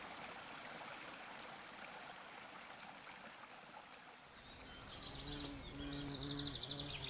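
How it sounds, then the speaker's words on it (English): A steady wash of flowing water gurgles throughout, with birds chirping and calling more clearly in the later part. "the gurgling of streams"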